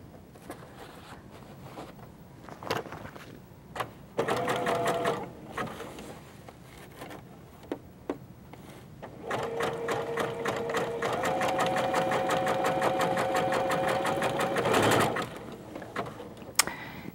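A sewing machine with a circular attachment stitches in short bursts, then runs in one long steady whirring, rattling run, close and clear, with a few clicks and handling knocks between and no talking.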